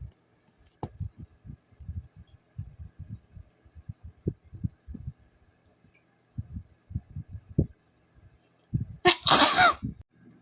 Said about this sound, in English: I don't know if I have to sneeze or not.